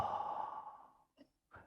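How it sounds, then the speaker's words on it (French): A single deep breath exhaled as a long audible sigh, close and quiet, fading out, followed by two faint short breaths. "Une respiration."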